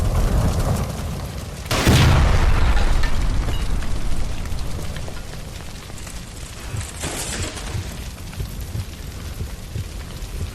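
Gas line by a stove blowing up in L.A. Noire: a sudden loud broadband boom erupts about two seconds in and rumbles away over a steady noisy background, with a smaller burst later.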